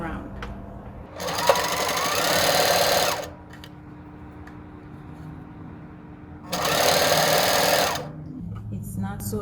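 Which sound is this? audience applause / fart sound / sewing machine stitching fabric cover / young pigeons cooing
sewing machine stitching fabric cover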